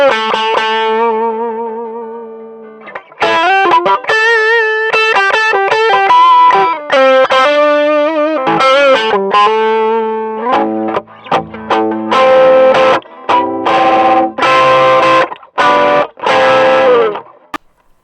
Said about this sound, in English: I like the sound of that tube screamer